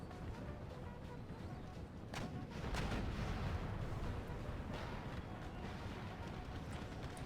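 Artillery fire in the Empire Total War battle game (Darthmod), a land battle against Sweden, with distant cannon booms rolling over a steady, dense roar of battlefield noise.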